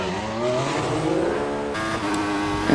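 Race car engine in a racing video game at the 2014 Abu Dhabi Grand Prix, a steady high-pitched whine that rises and falls through gear changes for nearly three seconds, loud and continuous with no talk.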